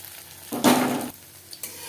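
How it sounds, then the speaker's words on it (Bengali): Bitter gourd slices fry in hot oil over a medium flame as they are turned and stirred, giving a brief burst of sizzling and spatula scraping up close before settling to a faint crackle. "উল্টে পাল্টে ক্রিস্পি করে ভাজা হয়ে গেছে।"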